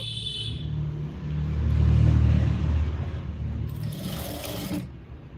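Electric sewing machine running steadily as it stitches the side seams of a blouse, with a continuous mechanical whir and rumble that swells in the middle and then eases off.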